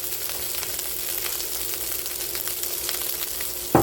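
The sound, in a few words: bacon brussels sprout fried rice sizzling in the pan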